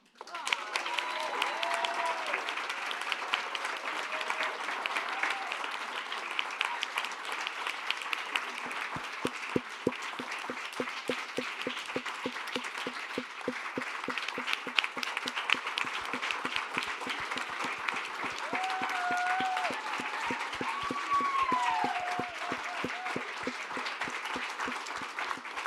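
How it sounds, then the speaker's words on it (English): An audience applauds a retiring colleague at a community gathering, with sustained dense clapping that runs on for a long stretch while a few voices call out faintly underneath. "I thought if we just clap long enough, you still stay."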